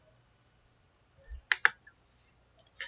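A few scattered computer keyboard keystrokes in a quiet room, with two sharper clicks close together in the middle and a couple of faint taps around them.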